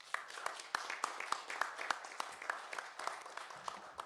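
A small audience applauds after a talk in a quiet hall, giving sparse, fairly faint claps in an irregular rhythm.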